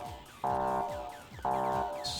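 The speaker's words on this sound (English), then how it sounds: "Sorry for the beeping." Two sustained electronic alert beeps sound about a second apart in Factorio, each a steady buzzy tone that holds for under half a second, with a faint hiss at the very end.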